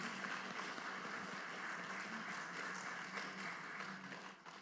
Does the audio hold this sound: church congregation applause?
yes